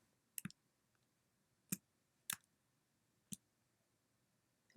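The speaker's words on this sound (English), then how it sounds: "Boy, I really have a hard time right clicking on this remote computer." A computer mouse clicks on a remote computer, five sharp, isolated clicks spaced irregularly about a second apart, close and crisp against near silence.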